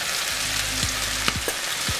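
Spinach sautéing in a pan sizzles steadily close up, with a few brief scrapes and stirs breaking through the frying hiss.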